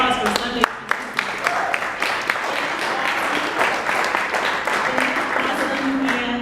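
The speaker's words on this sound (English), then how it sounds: "I just want you to give us a round of applause for Sunday Streets" Crowd applause at an outdoor Sunday Streets event in Houston, sharp close claps over a continuous dense patter that holds steady, with a voice speaking at the start.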